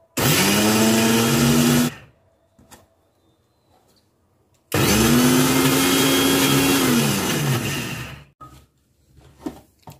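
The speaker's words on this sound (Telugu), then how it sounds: "ఈ విధంగా మిక్సీ పట్టుకోవాలండి" A kitchen mixer grinder coarsely grinds soaked moong dal in two loud whirring bursts, each with a motor pitch that rises and then drops. A pause of near silence separates the bursts, and faint handling clatter follows.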